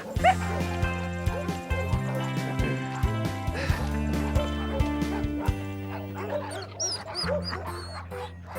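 Show dogs bark repeatedly in a TV scene, sharp close yaps and bow-wows with some whimpers, set against a sustained musical background.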